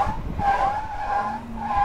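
A homemade car built from duct tape drives with its tires skidding and squealing in wavering, drawn-out tones over low rumbling road noise, fairly faint and without talk.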